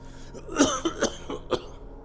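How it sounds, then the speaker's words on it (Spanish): A person coughing hard, several harsh rasping coughs in a quick cluster, close and loud, with no talking. "fue presa de un violento acceso de tos"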